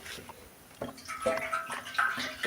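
Petrol sloshes and splashes inside a hollow metal motorcycle fuel tank in a few quick close-up surges, gurgling and echoing faintly.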